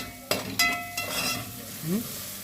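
Onion fries in a pan, a close sizzle with a few sharp clinks and scrapes of a utensil against the pan over a couple of seconds, with no one talking.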